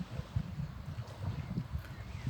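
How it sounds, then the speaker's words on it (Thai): Wind-driven waves lap against a lakeshore at Traunkirchen on a windy day, a steady low rolling wash with gusty wind noise, no voices. "ฟังแต่เสียงคลื่น"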